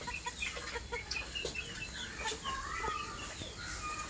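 A pair of police cap breed chickens, just released on a small farm, cluck in a busy chorus of overlapping calls that runs steadily throughout, fairly close, with no talking.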